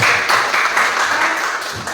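A school physical education class clapping for a classmate after a backward roll demonstration on a mat, a brief continuous patter of many hands that fades slightly toward the end.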